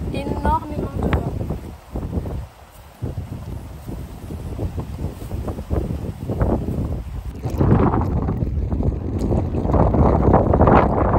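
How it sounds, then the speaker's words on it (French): Strong wind buffets the microphone at a seashore at low tide, a steady broadband roar that swells louder in the second half, with a person speaking over it throughout. "Il y a énormément de vent."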